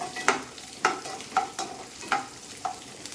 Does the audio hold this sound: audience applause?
no